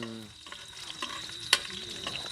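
Food sautés in a pan, with a low sizzle under a few clinks of a stirring utensil and one sharp metallic tap partway through; no speech is present.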